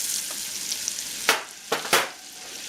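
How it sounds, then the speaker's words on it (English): Onion stirred in a hot pan with salt and thyme, giving a steady hiss of frying broken by a few brief scraping strokes of the spoon, close by with no talk. "So I'm stirring in my onion"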